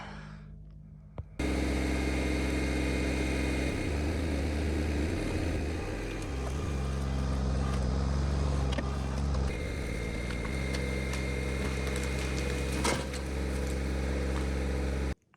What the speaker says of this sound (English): see if we can't get the tractor to sit there and pull that down